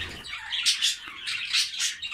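Budgerigars chirp in PVC cages, a few bright tweets and short calls in quick succession, fairly faint and without any talk.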